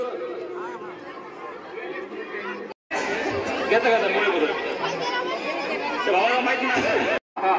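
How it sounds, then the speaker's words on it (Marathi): Crowd chatter at the Dhavanda Jay Malhar palanquin festival of 2024: a dense, loud murmur of many voices fills the whole stretch, broken by two very brief gaps. "याला म्हणतात भावा गर्दी."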